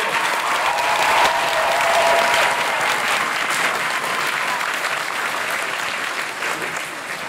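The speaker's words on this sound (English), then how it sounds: "How about another round of applause for the newest American?" A crowd at an army family day ceremony at Fort Jackson applauds, a broad, steady wash of clapping that holds for several seconds and then gently eases.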